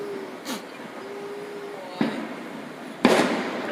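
Fireworks at the 2019 Wawa Welcome America display in Philadelphia burst in the sky, three separate booms spaced apart with faint whistling rising between them, heard from a distance.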